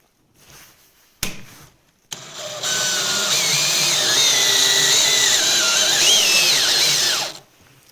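A powered screwdriver drives a bushing into a drilled hole, whirring loudly and continuously for several seconds with shifting pitch after two brief trigger bursts, then stopping.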